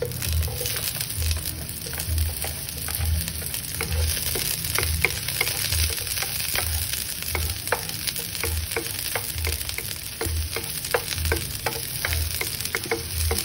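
Garlic and onions sauté in a pan for Filipino ginisang sitaw with carrots and bacon, giving a steady close sizzle broken by regular scraping stirs and light utensil ticks, with no talking.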